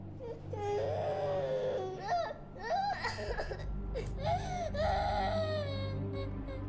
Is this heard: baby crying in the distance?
yes